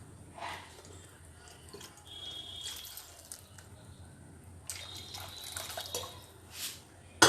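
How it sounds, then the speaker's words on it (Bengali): A spice container is rinsed with a little water in a kitchen, giving soft splashes and trickles in short bursts with quiet pauses, close by and fairly faint. "এবার এই মশলার ডিব্বাটা ধুয়ে একটু জল দিয়ে দেবো"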